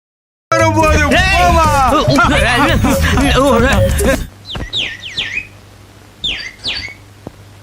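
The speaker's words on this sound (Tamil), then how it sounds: "ஏ குருவி" A loud tonal passage stops abruptly, followed by a few brief high-pitched sparrow chirps in two small clusters, fairly close.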